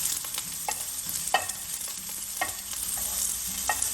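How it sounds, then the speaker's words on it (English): Squid rolls frying in a pan, a steady crackling sizzle with intermittent scraping and stirring sounds as the pieces are turned, fairly close and with no talking. "turn them around to cook them on the other side"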